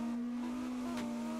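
A sim racing car in a drifting competition holds a steady high engine drone at throttle, loud and continuous, with a brief swell partway through.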